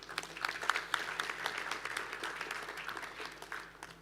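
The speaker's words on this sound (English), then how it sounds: "Let's give them both a round of applause before we announce the winner." An audience applauds at an awards ceremony honouring a lifetime achievement at the World Rice Conference. Dense, steady clapping from many hands carries on for about four seconds at moderate, somewhat distant volume.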